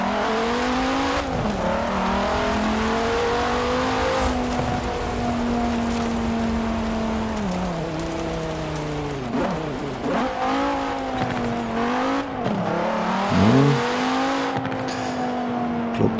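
A car drives along an unpaved dirt road in Forza Horizon 4, its engine a loud, continuous drone that rises and dips with shifting revs, mixed with gritty tyre and gravel noise.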